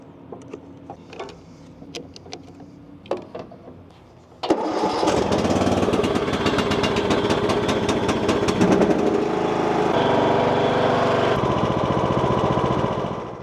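A lawn mower engine cranks and fires up on a jump pack, then runs loud and steady at close range with no one talking, after a few quiet clicks and knocks of handling.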